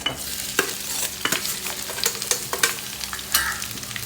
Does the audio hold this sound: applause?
no